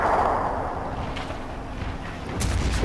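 Artillery fire aimed at a Panther tank in the Men of War game, heard as a low, rumbling barrage of muffled booms, fairly distant and steady, with a heavier blast rising at the close.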